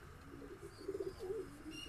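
Andhra high-flying pigeons in a breeding loft give a couple of soft, low coos near the middle, faint against quiet room noise.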